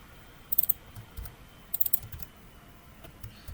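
Keys clatter on a computer keyboard in short, quiet bursts of quick taps with brief pauses between, close by in a quiet room.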